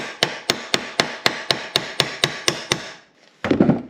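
A hammer strikes a lock tab on a Morris Mini 850 gearbox in eleven sharp, evenly spaced metallic blows, followed by a brief pause and a duller knock.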